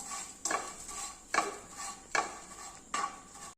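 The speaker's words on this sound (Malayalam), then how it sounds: "ഇനി ഇത് നമുക്കൊന്ന് ഇളക്കി കൊടുക്കാം." A spoon stirs flattened rice and grated coconut roasting in a pan over low flame, four evenly spaced scraping strokes with a faint dry rustle between them.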